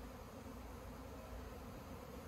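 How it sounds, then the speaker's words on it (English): A honeybee swarm in flight, moving toward a new nest, gives a steady, dense buzzing drone that holds at one level throughout, with no voices over it. "these bees might actually be moving towards their new nest"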